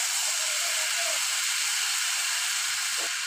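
Potatoes and tomatoes frying in a pan with chopped ingredients, a steady close hiss and sizzle running unbroken with no talk.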